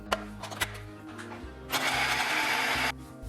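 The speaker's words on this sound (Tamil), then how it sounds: "தக்காளி சேர்த்ததுக்கு பிறகு இதையும் வந்து நல்லா கொஞ்சம் அரைச்சி எடுத்துக்கலாம்" A mixer grinder whirs loudly for about a second, grinding a spicy Sri Lankan onion sambal with chopped tomato, preceded by a few short clicks and bumps.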